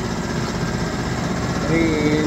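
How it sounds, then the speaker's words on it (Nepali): An air compressor runs in a tyre repair shop, giving off a steady, loud mechanical drone with a low pulsing hum that swells slightly near the end. "यहाँ कम्प्रेसर मेसिन पनि पुरै चालु भइरहेको अवस्था छ"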